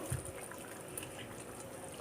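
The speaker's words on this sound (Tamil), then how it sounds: "நல்லா கொதிச்சிட்டு இருக்கு பாருங்க இதில் இப்போது இந்த நெத்திலி கருவாடை எடுத்து நம்ம போட்டுருவோம்" Fish curry with dried anchovies bubbles at a steady, soft simmer in the pot, a faint continuous gurgle with one brief low plop near the start.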